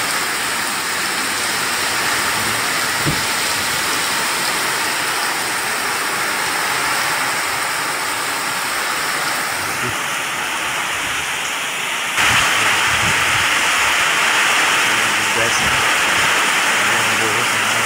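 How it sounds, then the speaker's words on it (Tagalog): Strong typhoon wind roars outside at night in a dense, steady rush that grows harsher near the end, with a single word of speech briefly heard. "Malakas ang hangin dito sa labas."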